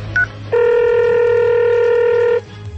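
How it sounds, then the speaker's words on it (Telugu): A telephone keypad dials out: a short electronic beep, then one long, steady, loud dial tone held for almost two seconds before it cuts off, over a low background hum. "డాక్టర్ రెడ్డి గారికి ఫోన్ చేస్తాను."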